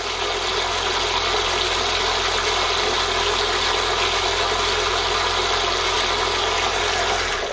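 A loud, steady mixer motor whirs continuously without pause while making mayonnaise with oil, a constant droning hum with a low mechanical rumble.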